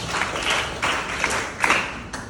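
Students clapping in a school classroom workshop, a short ragged burst of hands with a few louder individual claps, fairly close and modest in volume.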